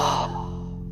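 A slow, relaxed exhale during a mindful breathing exercise, a soft airy breath that starts fuller and fades away over about a second, close and alone with no talking.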